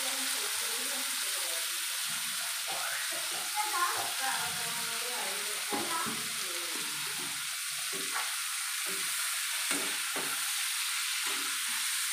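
Prawns hit hot oil in a pan with a steady, close sizzle and occasional stirring scrapes and splashes, mostly on their own.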